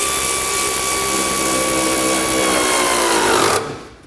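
Power tool whirring steadily at close range while driving in the headlight mounting bolts on a 2003-2021 Chevrolet Express van, holding a constant pitch for several seconds before stopping abruptly.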